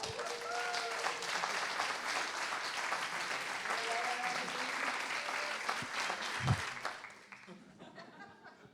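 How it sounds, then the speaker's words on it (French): Audience at a French comedy and poetry show gives sustained applause with a few shouts and chuckles, holding steady for about seven seconds before fading out. "vous pouvez vous applaudir encore une fois"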